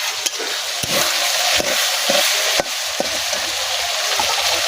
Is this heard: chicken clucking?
no